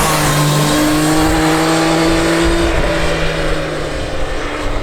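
Triumph 660 motorcycle engine droning steadily at cruising speed on a rainy road, loud wind rush over it and a brief pitch shift near the end, no talking.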